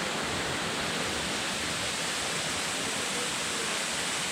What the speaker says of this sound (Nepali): मैले भनेको चाहिँ अर्को झरना चाहिँ यो हो।